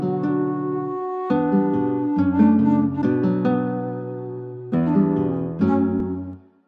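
A classical acoustic guitar melody built in Logic Pro X layers with a Cymatics Viper counter-melody loop, producing rich plucked chords and bass notes in a steady, close, unaccompanied-by-voice passage with a few strong re-attacks.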